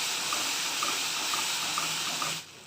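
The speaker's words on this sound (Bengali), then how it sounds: "মিক্সার জারটা ধুয়েই আমি এর মধ্যে জলটা অ্যাড করব।" Tap water runs steadily into a mixer jar being rinsed in a home kitchen, a close, even hiss of flowing water that cuts off near the end.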